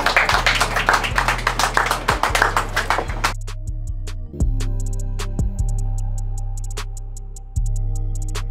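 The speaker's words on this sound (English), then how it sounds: "Come on, give a clap for the mom." A few people clap in scattered bursts in a restaurant during a Mexican breakfast challenge, loud sharp claps for the first few seconds, then only sparse single taps over sustained tonal background music.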